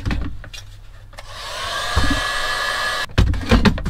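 Heat gun shrinking heat-shrink tubing on wiring during a split charge install in a Mazda Bongo, a steady close blowing hiss lasting about two seconds, framed by knocks and handling clatter.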